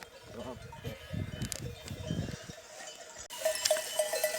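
Sheep and lambs bleat over rustling pasture noise, a few calls in the first half, then a bell-like clinking rises near the end.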